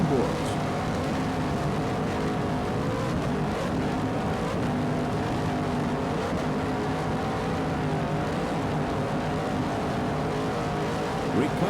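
A racing powerboat with two 900-horsepower inboard engines runs at speed off South Padre Island, a dense, unbroken engine roar that stays loud and close for the whole stretch.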